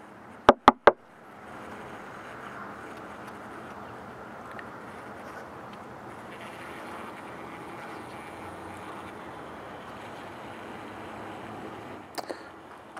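Three sharp knuckle knocks on a wooden beehive in winter, quick and close together, followed by a long stretch of faint low hum and wind noise, with a couple more soft taps near the end.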